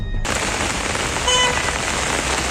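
Heavy monsoon rain pours in Uttarakhand, India, in a dense, steady hiss, loud and close, with no voices.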